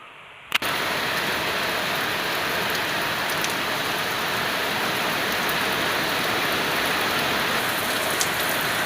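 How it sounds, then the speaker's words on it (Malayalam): Sudden rain breaks out outdoors about half a second in, switching from near-quiet to a steady, dense hiss of drops that holds loud and unbroken to the end. "ആ നിമിഷം മഴ അതാ പെട്ടെന്ന് അങ്ങോട്ട് വന്നു"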